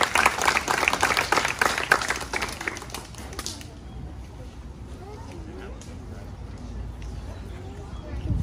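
Applause for two students at a US sixth-grade graduation ceremony, dense and bright for about three and a half seconds, then it stops abruptly and quiet room noise and faint voices follow.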